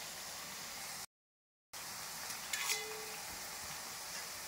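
Bitter gourd pieces sizzle in hot oil with a soft, steady hiss, broken by a short silent gap and a brief clink of stirring partway through.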